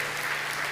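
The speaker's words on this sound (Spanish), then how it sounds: "Dale otro aplauso a Cristo, querido hermano." A congregation claps for Christ during an evangelical sermon on the end times, a short steady wash of applause with no pauses.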